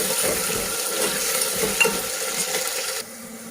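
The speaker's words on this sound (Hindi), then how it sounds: "अब ये स्लो हम बेह फ्राई करेंगे" Lotus root slices fry slowly in hot oil with a steady, close crackling sizzle, broken by a few soft stirring scrapes; near the end the frying drops back to a quieter hiss.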